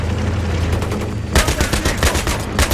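Rapid bursts of a tank-mounted machine gun in the Battlefield 3 video game, loud, dense repeated shots that intensify sharply halfway through over a constant rumbling background.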